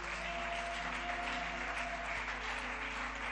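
A church congregation applauding during a French-language service, a steady, somewhat distant wash of clapping over a constant low hum.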